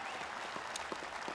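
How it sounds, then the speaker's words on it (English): Applause from spectators at the Le Mans Classic 2025 historic motor race, steady and fairly distant, a broad wash of clapping with a few sharper hand claps standing out over 1.4 seconds. "the crowd showing their appreciation to the drivers"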